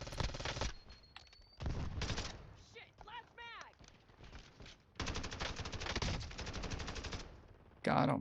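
Rapid automatic gunfire in a first-person shooter video game, bursts of loud close shots separated by short pauses, with game effects and faint voices mixed in.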